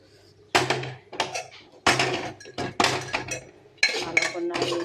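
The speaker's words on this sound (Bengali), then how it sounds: "ভালো করে নাড়িয়ে চাড়িয়ে ডালটাকে এই রান্না" Dal being stirred in a pressure cooker, a ladle scraping and knocking against the metal pot in a series of loud, close, irregular bursts separated by brief pauses.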